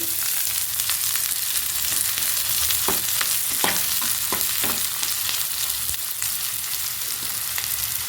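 Finely chopped onions frying in coconut oil in a pan for a chammanthi, a loud, steady close sizzle with several sharp scraping stirs of a spoon against the pan.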